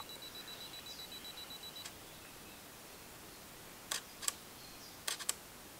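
Faint quiet room, an electronic focus beep early on, then a few sharp camera shutter clicks in two quick pairs near the end, while shooting a landscape photo.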